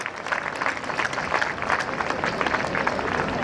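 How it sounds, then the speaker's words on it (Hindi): Steady applause from an audience at a school Republic Day celebration, cheering children after their parade and band performance; continuous, moderately loud clapping with no talk. "एक बार जोरदार तालियों के साथ हम उनको हौसला अफजाई करें"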